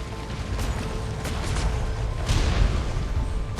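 Ship cannons firing a portside broadside in a pirate-ship video game, heard as a rolling series of booms and heavy creaks spread over several seconds, fairly loud and close, with no talk.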